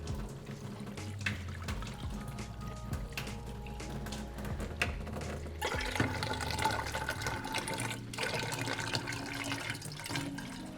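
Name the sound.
water pouring into container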